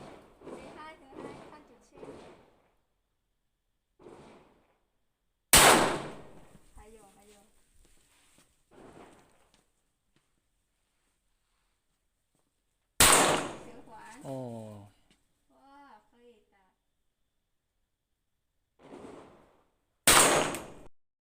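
Three sharp, loud gunshots ring out at a shooting range, spaced several seconds apart, each with a brief echoing tail, while people talk quietly between them.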